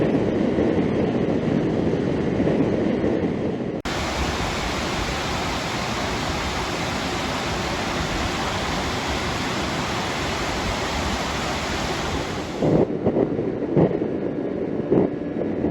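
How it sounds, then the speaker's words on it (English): A broad, constant roar of rushing water from a Scottish waterfall heard close by at dusk, steady throughout with no voices. "There's our waterfalls."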